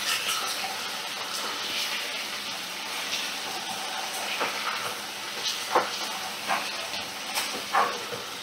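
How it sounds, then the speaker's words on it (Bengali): Cut gathi kochu (taro) fries in a pan, giving a steady soft hiss and sizzle with small crackling pops scattered through, close and fairly quiet. "ভালো করে একটু ভাজা ভাজা করব"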